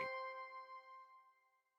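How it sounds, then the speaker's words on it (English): A single soft chime strikes once and rings out in a long, gradually fading tone from the announcement system of the video game Danganronpa V3, heard alone and fairly faint. "Ding dong, ding dong."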